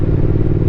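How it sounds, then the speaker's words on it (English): A Triumph Speed Twin with a decat X-pipe exhaust rumbles with a deep, steady engine note, loud and close, with a faint crackle running through it. "I can definitely tell the Decat already has made the bike sound much better"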